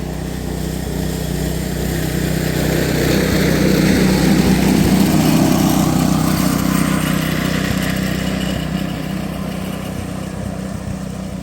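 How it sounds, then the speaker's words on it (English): Small gas-powered miniature train engines run around a live steam club track, a buzzing small-engine drone that swells nearer in the middle and eases off again, steady and loud with no talk. "Most people are bombing around the track on these little gas-powered things"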